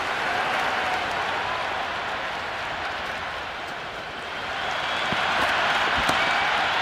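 Crowd at a cricket stadium during an India versus Pakistan under-19 Asia Cup final, a broad sustained wash of applause and cheering that swells slightly toward the end, dense and continuous.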